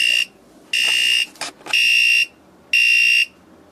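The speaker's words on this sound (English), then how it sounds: "I'm just going to plug it in and the alarm will go off because I have it set to on" A 1975 General Instrument CPD1/200 digital clock from Taiwan sounds its alarm: loud, shrill electronic beeps in four half-second bursts with short gaps, a brief stuttering chirp between the second and third.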